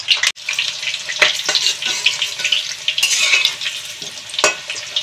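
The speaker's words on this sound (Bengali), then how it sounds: "আলুগুলো একটু ওলট পালট করে ভালো করে ভেজে নেব" Potato pieces frying in a pan of hot oil, a loud continuous sizzle broken by several sharp scrapes and knocks as they are turned and stirred, with nobody talking.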